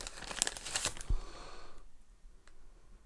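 Plastic bag from an EKSA E900 Pro gaming headset box being opened, crisp crinkling and rustling up close that fades into quiet.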